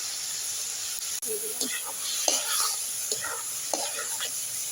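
Vegetables frying in a hot pan give a steady sizzle, with occasional stirring scrapes and clatters breaking through at intervals at close range.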